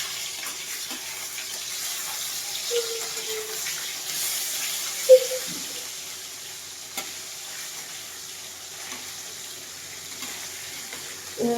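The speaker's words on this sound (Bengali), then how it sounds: "এই যে মাছটা দিয়ে দিলাম এবার মাছটা আমি ভেজে নেব" Fish sizzling in a frying pan with a low, continuous hiss, quiet and close, broken by a couple of light clinks from the pan or utensil and no talking.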